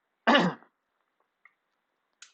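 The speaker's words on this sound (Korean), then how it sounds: "이제 좀 기침이 나오긴 하는데요" A single harsh throat clearing from a lecturer during a long talk, short and close, followed by near silence and faint small noises.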